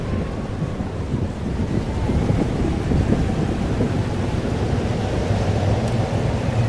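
A steady roar of heavy rain with rolling thunder rumbles through a storm in the video game Life Is Strange Double Exposure, loud and continuous with no talk.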